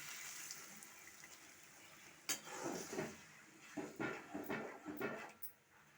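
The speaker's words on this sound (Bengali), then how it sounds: "এখন আমি জল দিয়ে দিচ্ছি" Water poured into a pan of egg paneer being cooked: a short run of quiet splashes and sizzling bursts with a few utensil clinks, fairly faint and with no voices.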